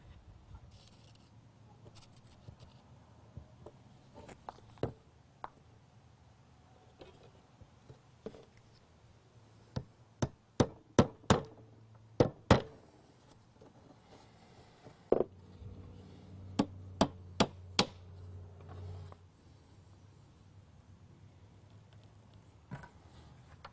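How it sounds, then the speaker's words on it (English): Walnut dowels tapped into glued screw holes on a rustic chair or cabinet: two bursts of sharp, crisp taps, a quick run around ten to thirteen seconds and another around fifteen to nineteen, over a low, steady hum. "I'll put a dab of glue in each hole and tap the dowel in place."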